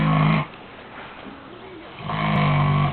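A pig snores in low, rumbling bursts at the start and again near the end, close and fairly loud, with a quieter pause between them.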